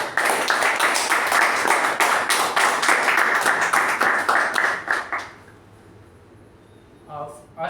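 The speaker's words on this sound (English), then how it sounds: "With that, a round of applause for Rahul." A small audience at a Toastmasters meeting claps briskly for about five seconds in a dense burst, then it cuts off to quiet room tone with a brief voice near the end.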